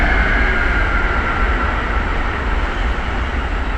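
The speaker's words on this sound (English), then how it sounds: "Hold on, train." A train passes right beside a home, a loud continuous rumbling roar that fills the whole stretch at close range without letup.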